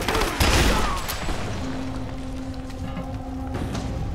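Gunfire in the video game Rise of the Tomb Raider: a loud burst of shots rings out near the start, followed by scattered distant reports and a steady tone over a continuous battle rumble.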